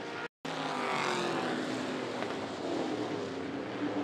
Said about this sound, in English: The 51 car of Pete Wright moves into the third space.